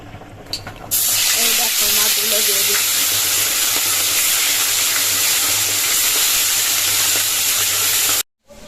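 Fish fry in hot oil with a loud, steady sizzle that bursts in after a brief stir and a few knocks, then hisses continuously and up close until a short cut near the end.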